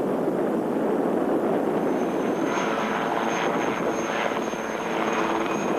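A military rescue helicopter hovers overhead while searching for a position, its rotor and engine roar forming a loud, steady, continuous drone with no pauses or voices.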